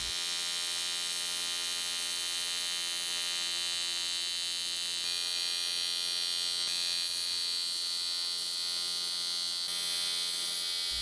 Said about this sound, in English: is really struggling to strike an arc at this point, which is why you're hearing that stuttering sound throughout the build